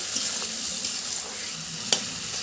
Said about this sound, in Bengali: এখানে মাংসটা কষে নিই